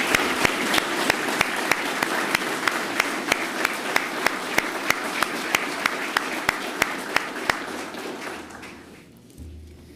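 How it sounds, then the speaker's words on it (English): Audience at a fire marshal's plaque dedication ceremony gives sustained applause, dense clapping from many people with sharp regular individual claps standing out, fading toward the end. "Let's give them another warm round of applause."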